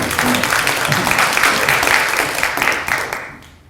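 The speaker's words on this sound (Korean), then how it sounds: "박수 한번 다시 한번 쳐주시죠" Audience applause at a Daejeon education superintendent candidates' policy debate: brisk, dense clapping from a packed room, loud and close, that fades out in the last half second.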